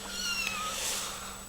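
Porch kittens give high, thin meows close by, a few overlapping drawn-out cries in quick succession over a low steady hum.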